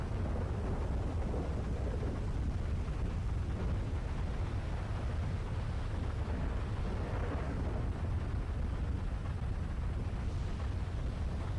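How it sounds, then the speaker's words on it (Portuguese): Steady, dense rain with low rumbling thunder in the GTA video game, a continuous loud wash of noise throughout with no voices. "Ó com a chuva, ó a chuva."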